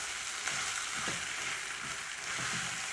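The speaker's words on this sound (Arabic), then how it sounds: "بنروح حاطين الرز الابيض على المتحمر وبنديله تشويحه كويسه كده" Cooked white rice being stir-fried together with browned rice in a pan gives a steady, close sizzle, with a few soft scraping stirs rising above the frying hiss.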